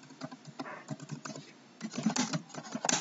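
Keys clatter on a computer keyboard while a C program is typed, in quick uneven clusters of close, crisp clicks, with a short pause before a denser, louder run of keystrokes.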